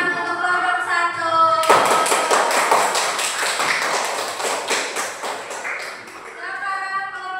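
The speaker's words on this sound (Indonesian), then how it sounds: "Beri tepuk tangan untuk kelompok satu" Audience applause for group one at a teacher performance assessment session, a dense burst of clapping that swells from the start and continues throughout, with voices audible before and after.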